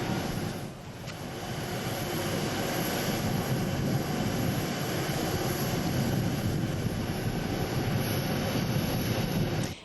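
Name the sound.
presidential jet airplane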